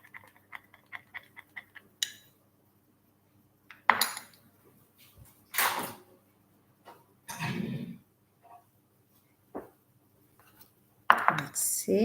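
A utensil stirring melted dark chocolate in a bowl, giving a quick run of light clinks followed by scattered scrapes and taps against the bowl, with pauses in between.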